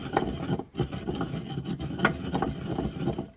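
Fresh herbs and pepper being ground for Apicius pine kernel sauce, a quiet, close rasping and rubbing in short repeated strokes with brief pauses.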